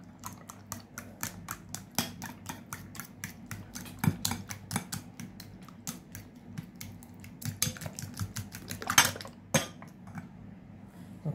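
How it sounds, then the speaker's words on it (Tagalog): A utensil whisks eggs and corned beef in a bowl, making rapid, irregular clicking and tapping against the sides at close range with a soft low hum behind it. "ibibit po natin ang ating itlog at saka corned beef"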